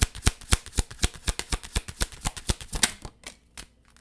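Tarot cards are riffled in a fast, even run of crisp slaps for about three seconds, close and clear, then tapering into a few softer taps.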